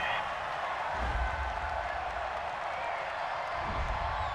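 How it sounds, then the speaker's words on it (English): Stadium crowd at a Seahawks versus 49ers football game reacting to a penalty flag on third down, a broad sustained roar of disapproval from thousands of fans, loud and unbroken throughout. "Well, the crowd doesn't like that."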